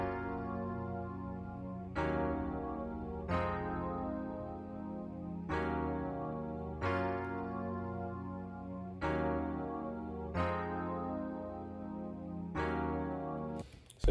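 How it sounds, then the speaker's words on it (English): Rhodes electric piano from a Kontakt library plays simple chords with no effects, each chord struck cleanly and left to ring and fade before the next, in a slow, even sequence of about eight chords. "So the first thing I started with was this Rhodes from Contact."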